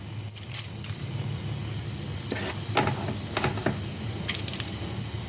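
Whole cardamom and cumin seeds sizzle in hot oil in a pan, a steady soft hiss with scattered crackles and pops rising over it, continuous throughout and close by, with no talking.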